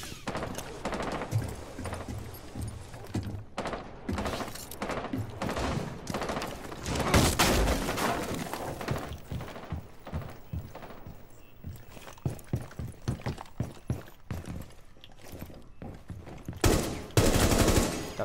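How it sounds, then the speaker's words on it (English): Gunfire in the Rainbow Six Siege video game, with rapid bursts of shots cracking out in clusters over a busy game soundscape, loud and close, including a heavy volley near the start and sharp shots near the end. "Shooting out the window"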